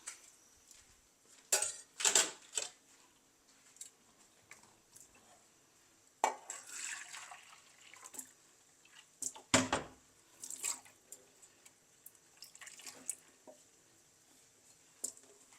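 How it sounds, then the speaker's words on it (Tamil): Coconut milk and water are poured into a pot while making coconut chicken biryani, with faint intermittent splashes, drips and trickles in a quiet kitchen. "நான் தேங்காய் பால் சேர்க்குறேன்"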